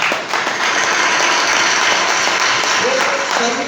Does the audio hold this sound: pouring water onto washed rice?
no